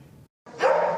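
Dogs found abandoned in central Utah, four about six months old, bark in a loud, close burst that swells and holds after a brief silence, with softer yips before it.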